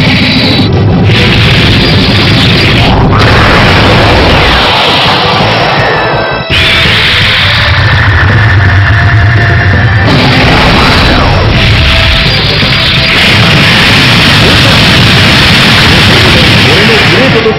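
A cannon blast from the Super Robot Wars Alpha Gaiden final boss battle against Neo Granzon, a loud, sustained roaring explosion with repeated booming surges and crackling noise that fill the whole stretch.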